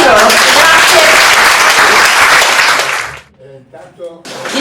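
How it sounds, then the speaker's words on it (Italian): Loud, dense audience applause fills a hall at a cultural event, sustained for about three seconds, then breaks off into a few scattered claps and quiet room noise before rising again at the end. "un applauso a tutti loro"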